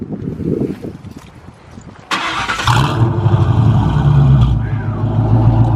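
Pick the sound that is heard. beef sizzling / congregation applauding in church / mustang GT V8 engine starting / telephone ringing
mustang GT V8 engine starting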